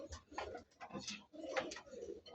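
Soft, throaty coos from sky-blue Golla pigeons repeat in short bursts, fairly close, with faint rustling between calls.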